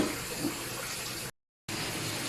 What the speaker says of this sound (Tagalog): Lalagyan na natin ng suka.